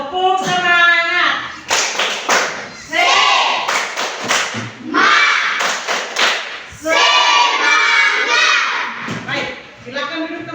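A group of schoolchildren in a classroom perform a rhythmic spirit clap while singing and chanting together, with bursts of hand claps and thumps falling in time between loud, close voices.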